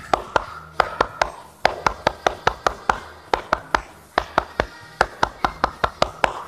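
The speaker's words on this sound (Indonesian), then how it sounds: "siap 2 kali tepuk pramuka" Pramuka Siaga scouts clap a patterned tepuk pramuka: a long run of sharp, close hand claps in quick rhythmic groups with brief pauses between phrases, performed twice.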